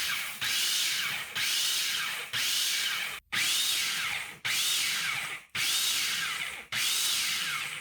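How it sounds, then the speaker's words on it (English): A food processor pulses a chimichurri mixture with red wine vinegar in several loud, whirring bursts, each a second or so long, separated by short silent pauses in a steady rhythm. "Now I'm just going to pulse this a few times until everything's nicely broken down and mixed together."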